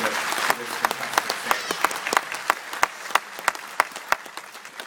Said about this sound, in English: your presence here today deserves a big round of applause from those who have accompanied you